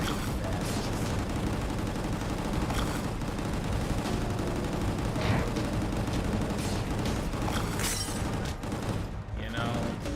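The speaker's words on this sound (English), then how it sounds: "Wow, these guns fire really fast." Rapid, relentless gunfire from guns in a hallway level of the action shooter video game Gungrave or Evil West, a dense fast stream of shots and booms that fills the whole stretch with no break, with speech mixed in.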